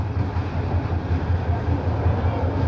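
An express train rolls into Bhairab Bazar junction, a steady low rumble of wheels and carriages at moderate distance, continuous and unbroken, with no clear talk over it.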